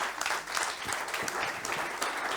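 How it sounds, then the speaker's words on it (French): Audience applause after a panel at a French business colloquium, a steady patter of many hands clapping throughout, fairly soft and even in level. "on peut les applaudir"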